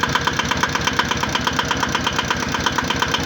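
An IFA 1VD diesel engine idles steadily nearby at about zero degrees Celsius, its low rhythmic knock pulsing evenly throughout with no voices.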